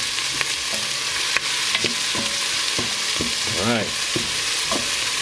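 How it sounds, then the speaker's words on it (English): Garlic fries in a pan for a Filipino mung bean soup, a constant close sizzle broken by scraping stirs and spoon knocks, with a short spoken remark and a brief voiced sound partway through. "Fry this together a little bit."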